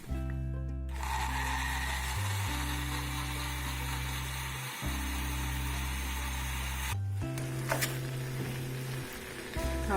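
A blender grinds chiles, a chunk of onion, a garlic clove and a little water, running loud and steady with a steady harmonic whine; the motor pitch dips briefly a few times as the blades catch.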